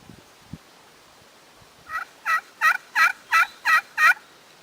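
After a brief pause, a glass friction turkey call played with a wooden striker sounds a run of seven sharp, even yelps, up close and loud, without any talking.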